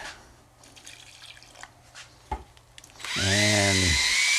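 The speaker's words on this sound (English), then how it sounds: "So we're gonna add a little water." Water pours into a mud pan of drywall joint compound, a loud steady splashing rush that starts partway through after quieter tool and handling noises.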